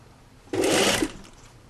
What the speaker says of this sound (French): Et je continue à piquer au bord.